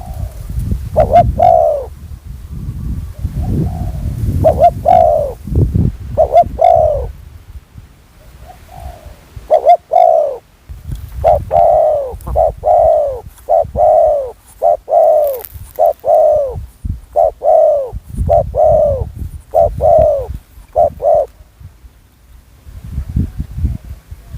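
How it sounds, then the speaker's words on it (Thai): Repeated soft cooing calls from doves, several phrases in a steady rhythm, fairly close, over a low rumbling background. "เสียงนกคู่ครับ"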